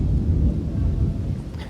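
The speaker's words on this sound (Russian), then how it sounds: "Гром гремит." Thunder rumbling during a storm at an eco-trail in Moscow's VDNKh park, a heavy continuous low roar that stays loud throughout with no talking.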